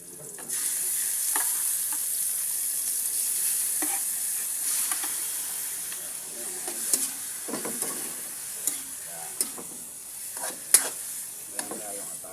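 Chicken liver and gizzards frying and being stirred in a pan for a home-cooked lunch: steady loud sizzle throughout, with intermittent scraping and clacking of a utensil against the pan, no talking.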